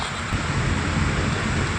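A dense, constant roar of heavy rain on a road trip from Kerala to Palani, broadband and loud throughout, with low rumbling underneath like rain drumming on a vehicle.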